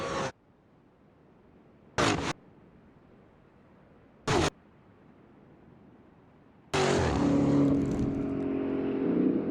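Powerful muscle cars on a street, a Mustang Shelby, Challenger Hellcat and Camaro ZL1, with short sharp bursts of engine noise followed by a loud, sustained roaring acceleration close by.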